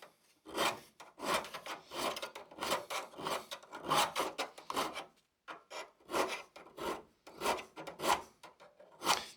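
Hand file rasping across a hedge trimmer blade to sharpen it: steady back-and-forth strokes in a regular rhythm, close and fairly loud, with a brief pause midway.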